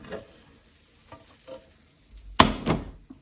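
A tortilla de patatas gets flipped with a plate pressed onto the frying pan, giving a quiet sizzle and small clinks before one sharp, loud clattering thunk near the end.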